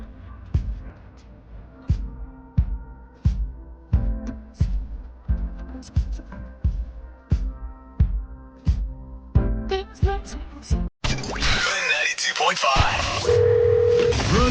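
A telephone line tone sounds during a radio show's call to a man, entering as a steady hum near the end after a run of rhythmic tonal beeps and a burst of noise.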